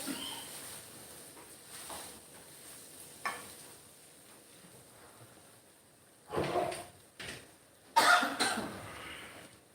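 After a quiet stretch with faint clatter from cooking black mung beans, someone nearby coughs several times in short, harsh bursts toward the end, triggered by pungent fumes from tempering spices.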